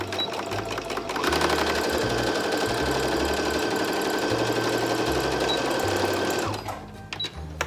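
A sewing machine runs a steady, fast stitching burst for about five seconds, sewing a 3/8-inch seam allowance across the clipped edge of a reversible bucket hat headband, then stops amid light handling noise.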